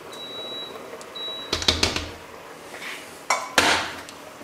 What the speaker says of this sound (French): Je viens bien gratter la casserole.